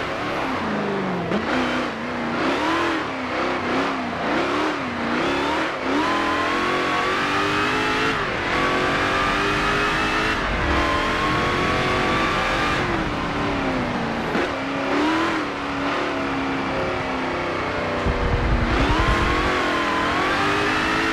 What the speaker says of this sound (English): Car sounds like a toy car.